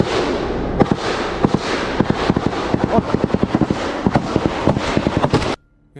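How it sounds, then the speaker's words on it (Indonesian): Rapid bursts of gunfire aimed at an armored vehicle in a conflict zone in Puncak, Central Papua, a dense crackling string of loud sharp reports over a roaring background, ending abruptly in near silence. "Dia tembak rantis komandan."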